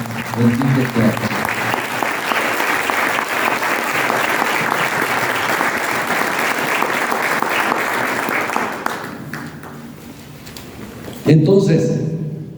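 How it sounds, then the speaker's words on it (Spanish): A church congregation applauds together in sustained, dense clapping that fills most of the stretch, then fades and gives way to voices near the end. "Un aplauso a ese Dios"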